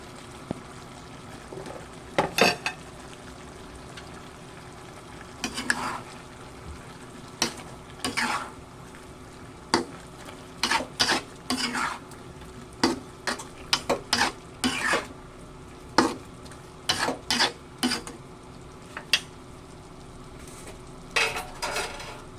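Sweet potatoes stirred into pork frying in a pan, a steady close sizzle broken by repeated sharp scrapes and clinks of a utensil against the pan, no voices.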